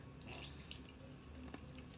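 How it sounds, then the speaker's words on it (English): Water leaking and dripping out of a frozen bucket, heard as faint, sparse drips and trickles over a steady low background hum, with no voices. "Oh, the water is coming out of the bucket."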